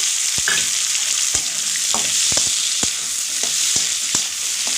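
Chopped tomato goes into spices frying in oil, giving a steady close sizzle broken by repeated sharp scrapes and knocks of a spoon stirring the pan, with no talk.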